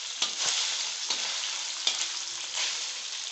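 Orbeez hydrogel beads fry in hot oil with a steady loud sizzle, broken by several sharp pops and crackles spaced through the sizzling.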